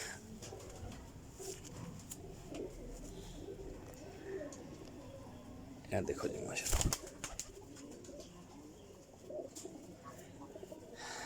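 A pigeon, a female breeder bird about one and a half to two years old, coos softly and repeatedly in the background while someone talks over it, with a brief louder handling noise midway.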